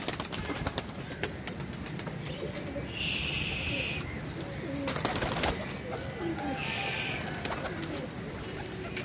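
Pigeons leaving their loft on release, with cooing calls and wing flutters heard close, plus a couple of brief bursts of wing noise, over steady background noise.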